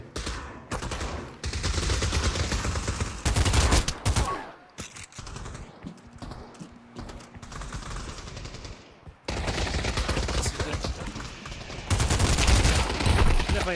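AK rifles fire in the VR shooter Pavlov, with dense bursts of automatic gunfire and rapid shots that come and go across the clip, loud and close at times, with quieter gaps between the volleys.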